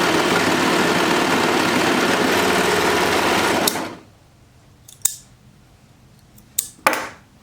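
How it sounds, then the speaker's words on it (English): A sewing machine runs steadily, loud and close, while stitching down the side of a folded fabric waistband, then stops abruptly, followed by a few sharp clicks and taps of handling. "I'm going to sew right down the side right here"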